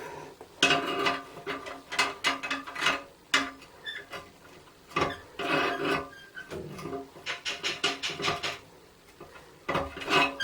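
A nut being tightened on a toilet handle against porcelain, giving repeated close scraping, ratcheting rasps in uneven bursts with brief pauses between turns, no voices.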